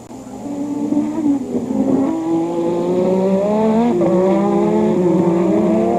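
Formula 1 cars race at the 1986 Australian Grand Prix, with a Porsche-engined car at full power overtaking: loud, sustained high engine wail with rising and shifting pitch sweeps as the cars close and pass, and no talk.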